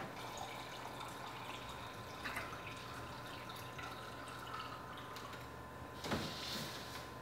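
Drinking water filling from a tap at home, a soft steady trickle with light drips and clinks, faint and fairly distant, swelling briefly near the end.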